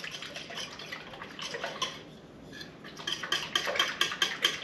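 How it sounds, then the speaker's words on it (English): A whisk gently combines sourdough starter with water in a bowl for bagel dough, giving soft watery clinks and swishes that quicken into a steady rhythmic series of strokes, close and moderately loud. "take my whisk and gently combine that sourdough starter and water and start to break up that starter"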